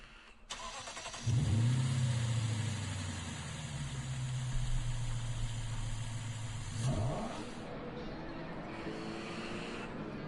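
Lexus race car engine in Gran Turismo Sport, a loud sustained drone with a high whine that holds steady for several seconds and then drops away to a quieter background hum.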